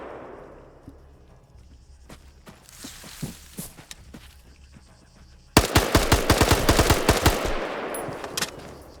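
A military shooter game builds from scattered single shots and mechanical clicks to a sudden long burst of loud machine gun fire, rapid and sustained to the end.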